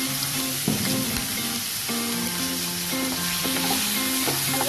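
Tomato, garlic, chili and onion fry with cumin in a hot pan, making a steady close sizzle with scraping stir strokes over a faint tonal background, no speech.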